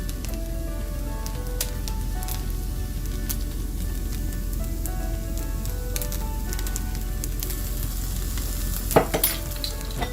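Shrimp and broccoli egg fried rice with oyster sauce sizzles steadily in a hot pan, a dense continuous frying hiss with occasional stirring scrapes and a brief louder clatter near the end, no voices.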